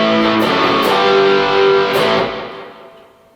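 Electric guitar through a Tech 21 FlyRig5 with SansAmp, OMG boost, delay and reverb, playing a few sustained chords with a crunchy amp tone, echoing repeats and a reverb tail that fades out at the end.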